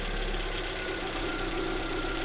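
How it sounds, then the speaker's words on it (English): Engine of a Hyundai i30 idling steadily with an even, continuous mid-pitched hum and faint knocking texture, close up and loud, no start-up transient evident. "and then I start the car."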